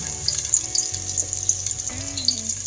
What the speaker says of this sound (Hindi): और इसको हमने फ्राई करना है ब्राउन होने तक